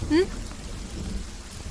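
Steady rain falls with a low rumble of thunder underneath, heard briefly in a movie scene, with a short vocal sound near the start.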